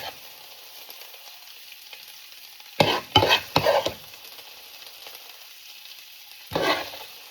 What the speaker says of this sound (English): So go in with the saltfish now.